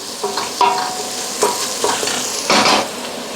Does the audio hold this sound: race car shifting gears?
no